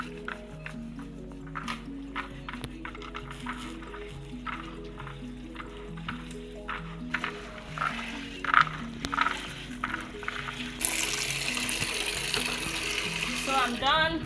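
Soybeans being washed by hand in water, with sloshing, rubbing and trickling sounds in uneven bursts, then a steady rush of running water near the end, close and moderately quiet.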